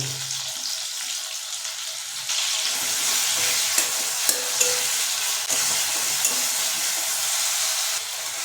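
Chopped tomato pieces tipped into a pan of frying katla fish curry, Assamese style: a soft hiss jumps to a loud, dense sizzle partway through, with a few sharp crackles and spatters, and no talk.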